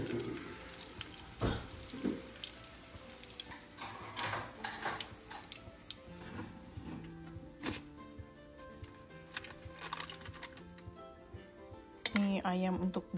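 Squid rings frying in hot oil on a kitchen stove, with a soft crackling sizzle broken by sharp pops and metallic clinks from utensils and pans, then a brief clatter near the end.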